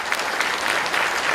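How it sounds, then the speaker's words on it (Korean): An audience at a special lecture held at Chonnam National University applauds vigorously, a loud, even, dense patter of many hands clapping throughout. "우리 모두를 위해서 박수 한번 해주시면"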